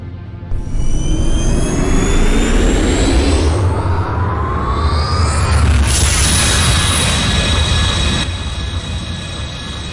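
A sci-fi Time War device fires in a Dalek animation, a loud sustained booming roar with rising whines and sweeping tones that swells, shifts midway, then eases off.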